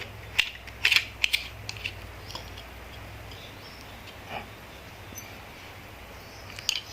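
Nut being tightened onto a blade on a cordless 12V 550W 3-inch mini angle grinder, giving a few quick metallic ratcheting clicks near the start, then quieter fiddling with faint hum underneath.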